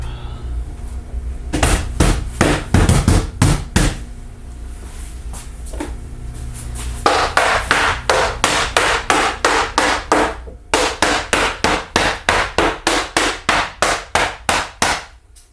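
A hammer taps a wooden board being lined up on an Onefinity CNC machine in a woodworking shop, striking loud, close, sharp blows in irregular clusters before settling into a fast, even run of knocks.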